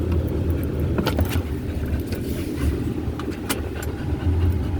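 A pickup truck engine runs nearby with a steady, loud low rumble that holds almost unchanged throughout, with faint higher clicks and rattles scattered over it.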